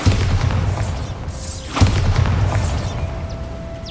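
A Bombarda spell blast in Hogwarts Legacy: loud, deep booming bursts with a strong crack near the middle, trailing rumble and sweeping magical whooshes, no talk over it.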